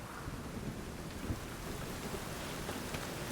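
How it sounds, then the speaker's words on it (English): Steady rain and rolling thunder from a storm in The Witcher 3, a dense continuous wash of falling water with low rumble underneath, loud and unbroken with no voices. "A storm, damn it."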